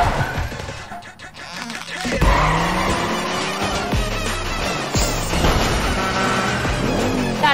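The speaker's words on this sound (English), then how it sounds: "That's the car." A car drives in a Fortnite match, its engine revving loudly and close with tire squeals and skids, plus scattered impacts and a few game noises layered on top.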